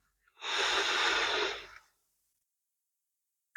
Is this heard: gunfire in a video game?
no